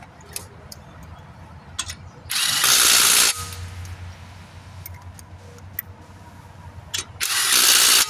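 Pneumatic air gun working on the brakes of a 2018 Ford Edge, firing two loud, rattling bursts about a second long each, several seconds apart, with quieter shop clatter and ticking in between.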